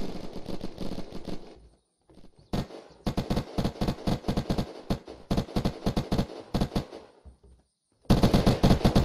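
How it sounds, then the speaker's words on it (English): Rapid bursts of automatic weapon fire in the video game Unturned, loud and close, in long rattling strings broken by short pauses, with a fresh burst starting near the end. "But I have an automatic weapon, so I can push him really easily."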